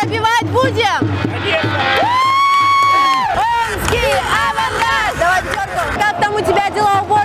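Hockey fans at an Avangard Omsk game chanting, shouting and cheering as a dense crowd roar, with whoops rising over the din and a reporter talking close by.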